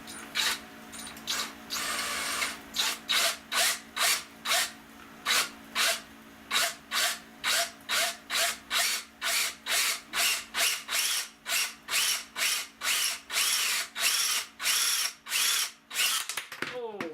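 Power drill boring out a wire lug, repeated short high whining bursts in a quick stop-start rhythm, close and loud, growing denser toward the end.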